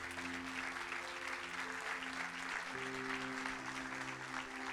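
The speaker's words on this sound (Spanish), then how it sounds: "Den un fuerte aplauso a Dios por eso" Church congregation applauding at an evangelical service, steady broadband clapping throughout with sustained organ or keyboard tones underneath, moderately distant.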